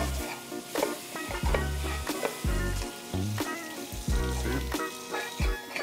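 Flour cooking in butter in a pan for a Jamaican rasta pasta sauce, a steady close sizzle with frequent sharp clicks and scrapes of stirring, and no voices.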